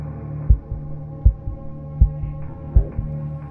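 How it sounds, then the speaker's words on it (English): A deep, booming heartbeat thumps steadily in the Creepeat indie horror video game, four loud double beats about once a second over a low droning hum, with no speech. "So we get a heartbeat when he's getting close."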